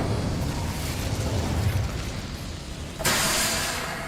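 Hogwarts Legacy's Incendio fire spell produces a sustained, roaring, noisy whoosh of flame that swells suddenly brighter partway through, loud and close against dense game ambience.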